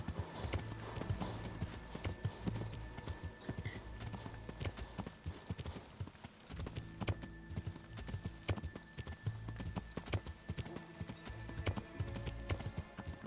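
A horse's hooves clip-clop steadily in the medieval video game Kingdom Come: Deliverance, an even rhythmic patter of close, quiet hoofbeats running throughout with a brief pause midway.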